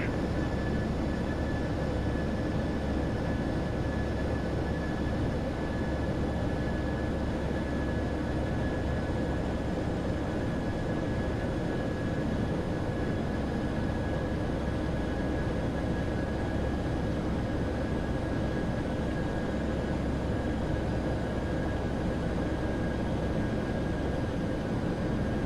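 Steady, even roar of an airliner's engines spooling up in a flight simulator, a constant loud drone with a thin high whine held across the whole stretch.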